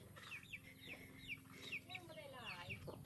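Several chickens cluck in a farmyard, in short repeated calls with a few louder squawks, under a steady low background hum.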